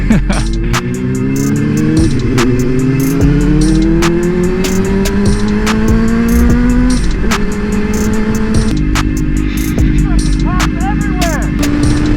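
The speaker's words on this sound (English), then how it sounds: "today we're going to be doing a first ride on my 2017 GSXR 1000" 2017 Suzuki GSX-R1000 sport bike on its first ride, engine revving hard and loud from close by, its pitch climbing steadily through several gear changes with brief dips at each shift.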